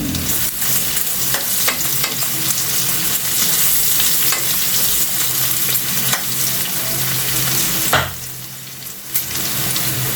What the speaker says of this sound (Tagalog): Lagay na rin natin yung sibuyas natin gamit natin kay Lee white onion